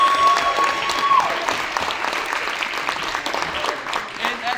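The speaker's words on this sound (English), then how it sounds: "everybody give yourself a round of applause." A crowd of protesters at a state capitol building in Harrisburg breaks into a sustained round of applause and cheering, loud and dense throughout, with faint voices mixed in.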